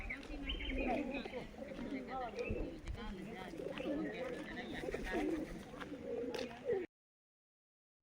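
Pigeons coo softly and repeatedly nearby at a dargah in Junagadh while people chat over them, before the sound cuts off abruptly.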